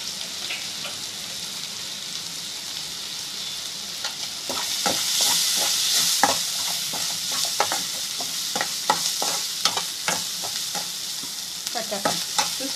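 A spoon scrapes and stirs a snack mixture dressed with lemon juice in a hot pan, producing a dense run of quick clicks and rattles over a soft, steady sizzle, close and with no voices.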